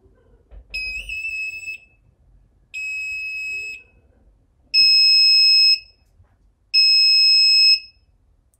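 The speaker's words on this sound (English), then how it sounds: "This makes a buzzing noise, kind of like a beep, beep, beep, that repeats itself all over again." Four high-pitched electronic beeps from an active buzzer driven by an Arduino or Raspberry Pi, each about a second long and evenly spaced, the last two louder, with faint handling noise between them.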